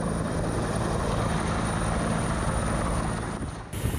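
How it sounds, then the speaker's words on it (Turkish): A Turkish Armed Forces helicopter evacuates stranded people during a flood rescue in Terme, Samsun, a loud, steady rotor chop and engine roar up close that fades slightly at the end. "Sağanak yüzünden mahsur kalan 17 kişi Türk Silahlı Kuvvetleri'ne ait helikopterlerle tahliye edildi."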